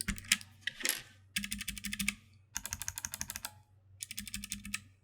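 Close, crisp clatter of keys on a clicky blue-switch mechanical keyboard, a low-profile Havit HV-KB390L or Keychron K3, typed in four quick rhythmic bursts with brief gaps between them.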